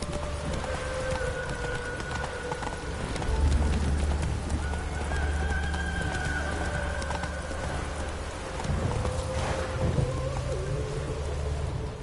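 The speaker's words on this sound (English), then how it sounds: "Run, Roach. Go, go." A horse named Roach gallops in The Witcher 3: Wild Hunt on PS4, its hooves thudding in a steady rhythm under rumbling thunder and rain, with occasional louder surges and no talk.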